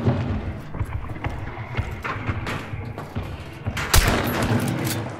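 Gunshots in the game Hunt Showdown ring out in a busy firefight, several sharp reports with a loud, close burst near the end over a rumbling background.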